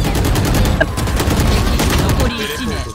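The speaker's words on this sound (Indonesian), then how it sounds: "Waduh, shotgun cuy." Gunfire in the tactical shooter Valorant, a loud dense burst of rapid shots and booms over about three seconds, thinning out near the end, with voices speaking over the shooting.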